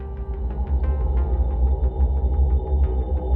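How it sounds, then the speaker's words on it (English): An ambient horror background track hums low and steadily, with a dark rumbling drone and faint, regular ticking pulses above it. No voices are heard. "I selected an ambient horror track just to give it the atmosphere."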